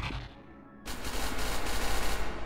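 Gunfire in the video game SCP Secret Lab, a brief lull then a sudden loud burst of rapid automatic shots that keeps rattling densely without pause.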